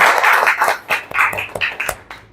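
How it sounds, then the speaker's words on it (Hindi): Congregation clapping during a church service, a burst of irregular hand claps, fairly close and loud, some claps landing in quick clusters, over about two seconds. "आइए इस वचन के लिए जोर से ताली बजाएंगे"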